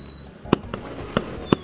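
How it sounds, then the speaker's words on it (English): Three sharp firework bursts crack out in a Gorilla Tag game scene, spaced unevenly over a low background hum, each a loud, bright pop with a brief crackling tail. "Alright, these fireworks are annoying."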